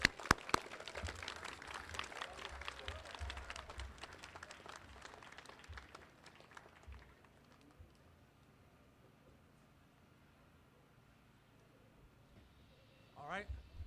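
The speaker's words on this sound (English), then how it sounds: "Please give us all, our village, our Bancroft community, a round of applause" Applause from a school community audience at a Bancroft school construction event, a dense burst of clapping at first that thins out over several seconds and fades away, with a brief clatter near the end.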